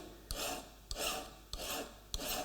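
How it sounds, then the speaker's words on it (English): A fine file rasping along a layout knife on a wooden bench top, four evenly spaced forward strokes, each a short scratchy grind that starts with a tap, close and quiet with no voices. "you can file it on top of the bench top like this, perfectly safely"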